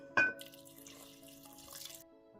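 Water pours from a tap or glass into a multicooker for pumpkin millet porridge, a short splashy burst followed by a soft, fairly faint trickle for about two seconds.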